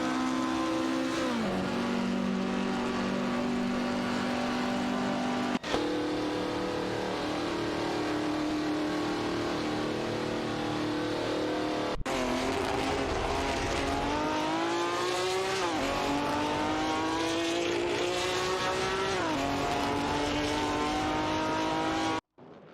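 Race cars drive and overtake in a racing video game, a loud, continuous engine roar with rising revs broken by gear shifts around every few seconds, with no voices.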